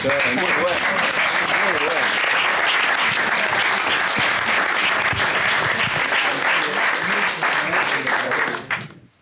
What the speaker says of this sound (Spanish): Un aplauso, muy bueno.